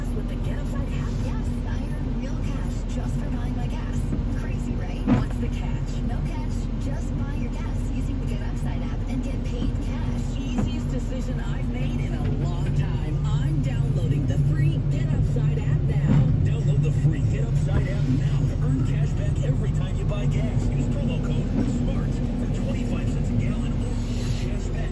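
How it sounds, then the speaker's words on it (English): A skid steer loader's engine runs in a continuous low, rumbling drone at a job site, steady and fairly loud, with voices faintly present underneath. "Bruce playing in the skid steer."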